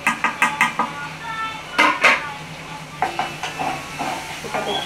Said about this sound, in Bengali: এটাকে একটু ভালো করে নাড়িয়ে মিক্স করে দেবো।